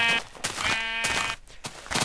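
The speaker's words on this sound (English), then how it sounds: "all I can find is sheep" Minecraft sheep bleating in the game world, several short wavering bleats in quick succession, close and clear, with no talk over them.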